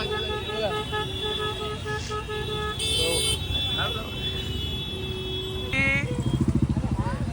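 Vehicle horns honking in a crowded street near a tree fire in Kalyan, several short bursts and one sustained high honk over traffic rumble, with people talking throughout.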